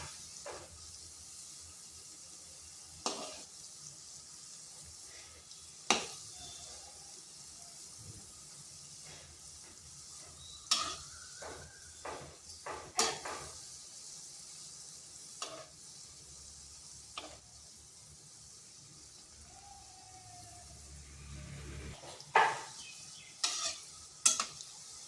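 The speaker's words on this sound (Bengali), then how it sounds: "এইভাবে নেড়ে চেড়ে ভাজতে হবে।" Semolina dough balls fry in hot oil in a pan with a soft, continuous sizzle, punctuated by repeated sharp clicks and scrapes of stirring at irregular intervals, fairly quiet and close, with no talking.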